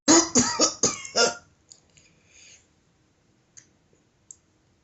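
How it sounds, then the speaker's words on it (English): A burst of five loud, close coughs in quick succession, followed by faint clicks and small rustles in an otherwise quiet room. "Did you just record a cough?"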